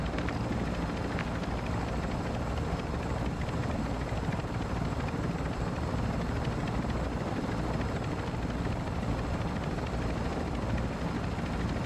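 A helicopter in the video game Call of Duty DMZ thrums in a steady, dense rotor roar that holds evenly throughout, moderately loud and unbroken, with no voices.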